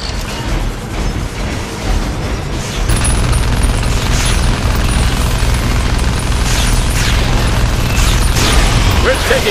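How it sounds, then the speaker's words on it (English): Grenade explosions in the video game Iron Brigade: booming blasts and bursts pile up in a dense, loud battle din that grows heavier partway through. "Watch out for his grenades."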